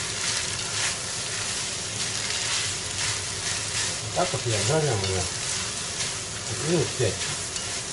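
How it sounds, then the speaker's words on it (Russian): Lagman noodles frying in a pan, with a steady, close sizzle throughout and occasional stirring scrapes, while someone speaks Russian briefly over the cooking. "Так вот я жарю, ребят."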